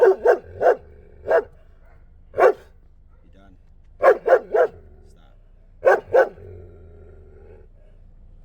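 A dog barks in sharp bursts: a quick cluster, a lone bark, then two tight triple volleys with low growling between them, all close and loud while a person talks to it.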